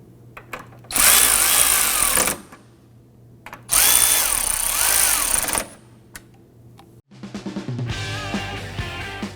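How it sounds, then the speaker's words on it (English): A power tool snugs down radiator bolts on a 2003-2014 Volvo XC90 3.2L L6 in two loud, close bursts of a couple of seconds each, followed by a shorter, rougher ratcheting run. "we'll go ahead and snug those down"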